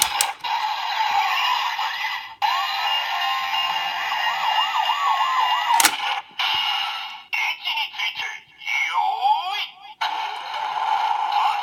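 The DX Lupinranger VS Patranger toy changer plays a loud electronic siren to summon its vehicle, a wavering, rising and falling wail that runs almost nonstop with a few brief cut-offs.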